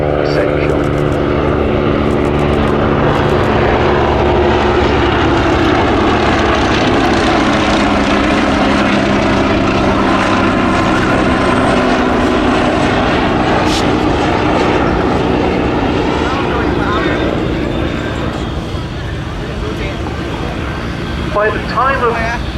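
A Fairey Swordfish biplane, a Royal Navy torpedo bomber, flies a slow display pass at an air show, its propeller engine droning loudly and steadily throughout beneath continuous commentary.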